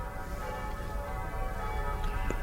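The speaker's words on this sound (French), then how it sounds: "Et maintenant, j'entends les cloches." Church bells ring on and on in a dense, sustained wash of overlapping metallic tones, steady and fairly loud, with a few brighter strikes standing out near the end, in a 1967 French production of Dickens's The Cricket on the Hearth.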